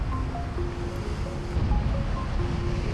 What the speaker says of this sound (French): Et les vagues aussi, elles sont pas mal.